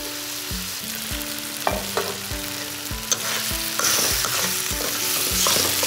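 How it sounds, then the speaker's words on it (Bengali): Brain bhorta with egg being stir-fried in a pan, a spatula scraping and knocking against the metal in a steady repeated rhythm over a continuous close sizzle that swells louder near the end. "এবার আমি এটা ভালো করে কষিয়ে নেব"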